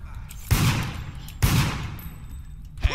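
Gunfire rings out in the multiplayer horror game Deceit: two loud, sharp shots about a second apart, each with a short echoing tail, then a third quick crack at the end.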